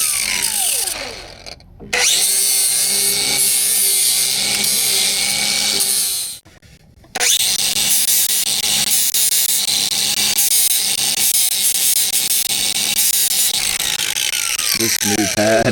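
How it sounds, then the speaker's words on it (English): An abrasive pad scuffs down to bare metal inside a vehicle's bump stop area, producing a loud, steady whirring grind that dips briefly once and then continues close and unbroken. "I'm gonna scuff the best I can on the inside up in there to give myself something to tack."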